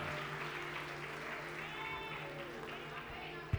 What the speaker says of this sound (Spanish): Vamos, aplaude, dale la gloria al Señor en esta mañana.